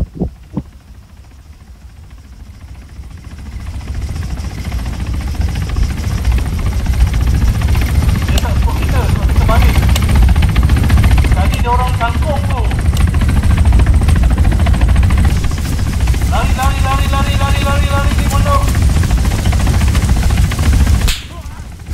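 A military helicopter in the video game ArmA gives a loud, continuous rotor throb and engine hum throughout, with gunfire and game sounds over it and players talking.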